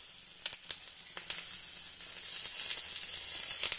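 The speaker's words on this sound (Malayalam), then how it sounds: "പാനിൽ എണ്ണ ഒഴിച്ച് എണ്ണ ചൂടായി വരുമ്പോഴേക്കും നമ്മൾ കുറച്ച് കരിവേപ്പില വെച്ച് കൊടുക്കുക" Curry leaves hiss and crackle in hot oil in a pan while fish is fried with green chillies, a steady close sizzle with a few sharp pops early on and no voices.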